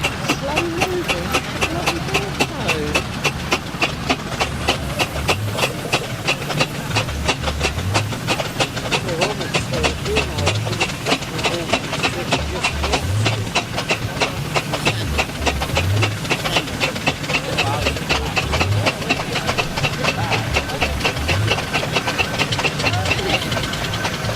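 An 1890 Wallace and Stevens steam engine runs at a steam rally. It gives a steady, rhythmic train of chuffs and hissing beats that repeat evenly throughout, with voices in the background.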